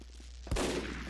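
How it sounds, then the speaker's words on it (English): A sniper rifle shot in Overwatch League esports play on the Metalworks map: one sharp, loud crack with a booming low tail, preceded by a quiet ambient game bed. "both snipers missing their shots there"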